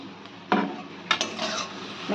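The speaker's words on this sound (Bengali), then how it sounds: "চিংড়ি মাছ আর পাতা ভালো করে একসঙ্গে ভেজে নিতে হবে।" Shrimp and drained pumpkin leaves stir-frying together in a pan, soft sizzling under a few sharp scrapes and clinks of a utensil against the pan, close by with no talking.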